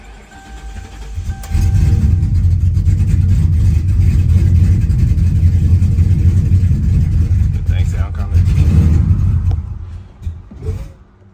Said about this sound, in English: Let's see if we get us a cold start.